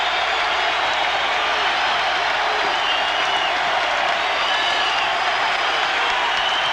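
Basketball arena crowd roaring and cheering at a college game between Duke and Arizona, a dense, steady wall of noise with no gaps, continuous and loud throughout.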